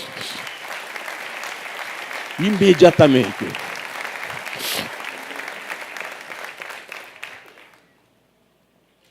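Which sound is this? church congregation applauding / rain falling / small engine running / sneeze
church congregation applauding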